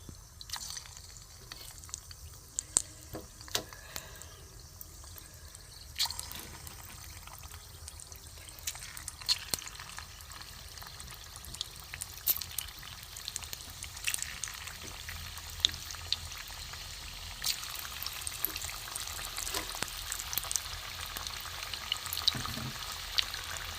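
Cauliflower pakoras sizzle in oil over moderate heat with a steady crackle and scattered sharp pops, lasting throughout without any talking.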